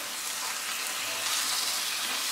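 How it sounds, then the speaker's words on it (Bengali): Raw banana peel bhorta with chilies frying in oil in a pan as it is stirred, a steady hissing sizzle that holds at an even level throughout, with no talking. "এখন আমি এটা ভালো করে মিক্স করে নিই।"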